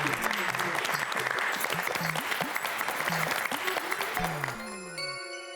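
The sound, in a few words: applause welcoming trophy presenters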